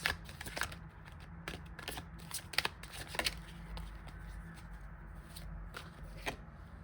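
Tarot cards are pulled from a deck and shuffled in quick, soft riffling and flicking bursts close up, with light taps in between.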